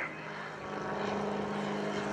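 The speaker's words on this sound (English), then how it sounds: "torque turn at the top with the propeller turning the aeroplane round" Propeller aeroplane performing a torque turn during aerobatics at an airshow, a continuous loud engine and propeller drone that swells slightly as the aircraft pivots, with no talk.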